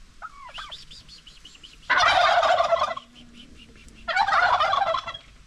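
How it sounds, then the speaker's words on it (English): A flock of turkeys gobbles in two loud, rattling bursts of roughly a second each, separated by quieter chirping and soft calls, with no talking over them. "what is going on with all these turkeys in the background?"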